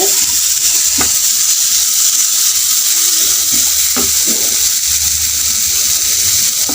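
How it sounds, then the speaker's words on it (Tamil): Bitter gourd (pavakkai) fries in a pan with a loud, constant, close hiss. A few knocks of stirring break through the wash of sizzle. "காய் பாருங்க நல்லா ஃப்ரை ஆகிட்டு இருக்கு"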